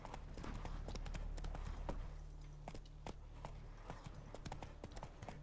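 Roach, the horse in The Witcher 3: Wild Hunt, trots along with clear, regular hoof clops over a low, steady background rumble, fairly quiet and close.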